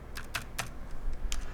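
Typing on a computer keyboard during a colour-grading session, a few quick separate key clacks with short pauses between them, close and clear over a low room hum.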